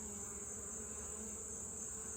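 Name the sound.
honey bee buzzing near beekeeper's hand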